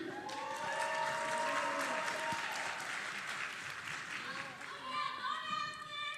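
A crowd at a student recognition ceremony claps and cheers loudly and continuously, with children's and adults' voices mixed into the applause.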